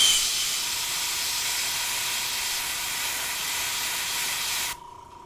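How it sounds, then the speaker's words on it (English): An airbrush sprays paint with a steady, close, airy hiss that runs unbroken for nearly five seconds before cutting off abruptly, leaving faint room noise. "That's just airbrush."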